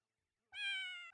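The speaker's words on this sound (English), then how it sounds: "That was a cat in disguise." Cat meowing in Conker's Bad Fur Day video game, a single clear, close, sustained meow that starts abruptly after a moment of silence.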